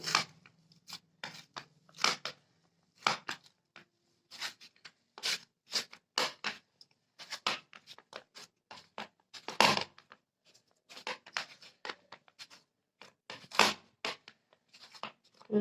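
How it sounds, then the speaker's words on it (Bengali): Barfi pitha dough being kneaded by hand with ghee, heard as close, repeated sticky squelches and soft presses in an irregular rhythm, with short quiet gaps between the pushes. "চেপে চেপে ভালো করে মেখে নিতে হবে"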